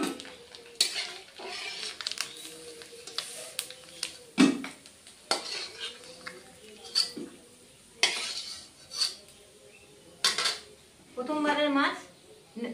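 Fresh river bhagna fish frying in a hot pan, a soft sizzle under repeated clatter of a metal utensil against the pan, with bursts of scraping and turning spread through the clip.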